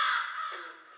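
A crow gives a single harsh, raspy caw lasting about a second, clear and fairly close, with no talk over it.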